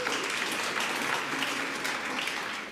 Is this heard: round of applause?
yes